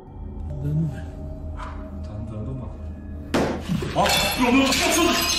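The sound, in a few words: roof tile falling, sounding like breaking glass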